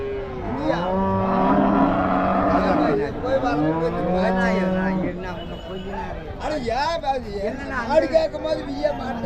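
Native breed cattle, some of them old, low repeatedly at a Krishnagiri district cattle market. The moos are loud and close, several overlapping calls with market chatter and other livestock in the background.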